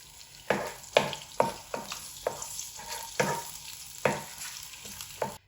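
Ginger garlic paste sizzles in hot oil with repeated stirring scrapes, about a dozen sharp knocks and swishes over a steady crackling hiss, close by.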